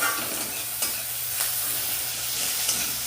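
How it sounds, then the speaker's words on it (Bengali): Four eggs frying in a pan in a home kitchen, with steady close sizzling and a few soft scraping stirs at a regular pace, and no voices. "তো এখানে সব কিছু আমার ফ্রাই হয়ে যাচ্ছে"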